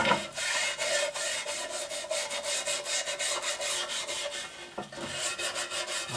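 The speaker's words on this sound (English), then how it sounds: "Handily, the toothbrush fits inside the neck of the bottle too." A toothbrush scrubs inside the neck of a Mitsubishi Colt air filter housing during its renovation, making close, rhythmic back-and-forth rasping strokes with a short pause near the end and no talking.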